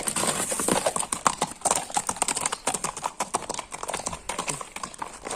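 Horse walking at close range on a hard surface, hooves clip-clopping in a steady uneven rhythm of sharp distinct knocks, with no talk over them.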